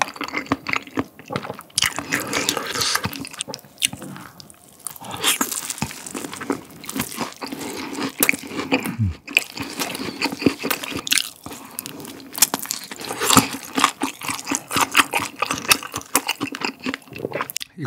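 Close-up eating of spicy tteokbokki rice cakes: sticky, wet chewing and squishy bites with occasional crunches and slurpy smacks, dense and continuous with no talking.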